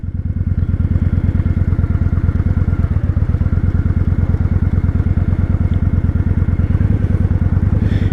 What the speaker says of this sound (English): So the engine, it's pretty good rumble.